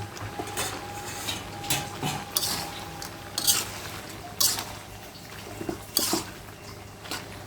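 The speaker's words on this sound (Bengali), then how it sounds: "এখন আমি নেড়ে সেড়ে মিশিয়ে নিচ্ছি" Pui shak greens stirred in a pan together with a fried hilsa fish head, heard as repeated close scrapes and clinks of a spatula against the pan over a faint wet sizzle, in irregular bursts.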